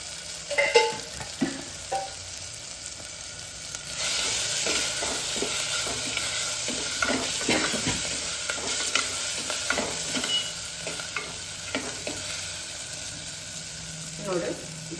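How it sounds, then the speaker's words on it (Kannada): Thick ragi mudde mixture bubbles and is stirred in a pot, a steady sizzling hiss with repeated scraping strokes of the spoon throughout, close and moderately loud. "ನೋಡಿ, ಇದು ಕುದಿತಾ ಇದೆ."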